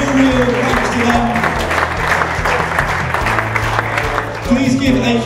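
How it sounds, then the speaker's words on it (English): Audience applause fills a live stage show honouring a football supporters' association, with dense steady clapping and crowd noise throughout and a little background music underneath. "Please keep that applause going as well for the Stag Supporters Association"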